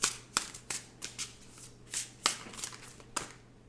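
Tarot cards shuffled and drawn by hand, a run of crisp riffling flutters and soft slaps close up, repeating in quick bursts over a faint steady hum.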